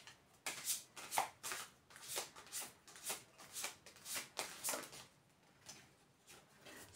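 Oracle cards being shuffled by hand during a card reading, a quiet, steady run of soft riffling and slapping bursts close by, repeating about twice a second with no talk.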